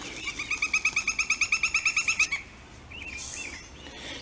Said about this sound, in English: Is that a woodpecker over there?